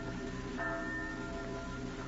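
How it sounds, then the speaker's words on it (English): Church bells ring late at night, sustained tones humming and overlapping in a continuous resonant wash at moderate level, with no voices. "Why do they ring so late at night?"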